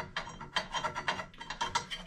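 A wire connector is pulled off a lug on a Gendex 770 X-ray switch, giving a series of quiet, close scraping and rubbing bursts in quick succession, with no talking.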